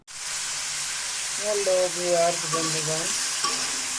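Mustard oil sizzling in a pan with dry red chilies for tomato chutney, a steady bright hiss close up, while someone talks over it in Bengali.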